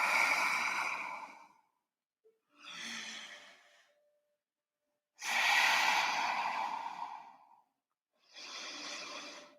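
Slow, steady breathing held through a yoga pose: four long breaths, inhale and exhale, each lasting a second or two with short pauses between, close and fairly loud, no talk.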